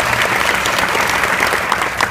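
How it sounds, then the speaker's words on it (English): Dense, loud audience applause at an innovation academy panel, a continuous even roar of many hands clapping without pause for about two seconds. "Big applause."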